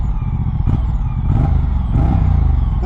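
A 2024 Moto Guzzi V100 Mandello S motorcycle engine revving close by, a loud throbbing run with a few quick rises in pitch as the throttle is blipped, and no voices.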